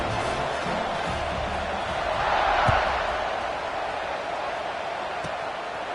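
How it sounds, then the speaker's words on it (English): Football stadium crowd buzzing after a score, a steady distant roar of many voices that swells briefly in the middle before settling back to a constant murmur. "this crowd is buzzing after that last score"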